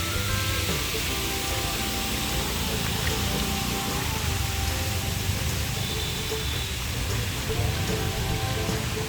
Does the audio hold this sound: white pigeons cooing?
no